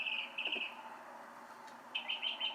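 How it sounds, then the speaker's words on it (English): Small birds outside a window at 1 a.m. on a summer night give quiet, high chirps, with a short cluster at the start and another after a pause, heard faintly at a distance over a low hum. "Here we have Summer Birds, which is just a recording at, 1 a.m. out of my window, and just these like pretty birds"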